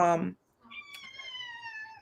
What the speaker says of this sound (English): my cat just walked in. Loud.